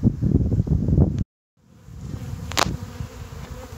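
Agitated honeybees buzz densely around spring hives in gusty wind, a loud swarm hum that cuts out abruptly for a moment and then returns with wind rushing over the microphone.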